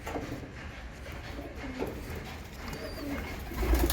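Breeding pigeons, including Teddy pigeons, coo steadily in a loft, a low repeated murmur with some shuffling and a louder thump near the end.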